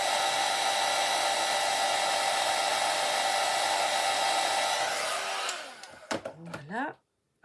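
A heat gun blows with a steady, loud whooshing roar for about five seconds and carries a slightly odd note, then it cuts off and a few short clicks and rustles follow before silence.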